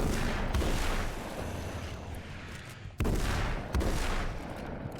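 Heavy booming gunfire in the video game Alan Wake's American Nightmare, two loud blasts with long rumbling tails about three seconds apart, and no talking.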